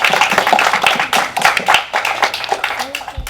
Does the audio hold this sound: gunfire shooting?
no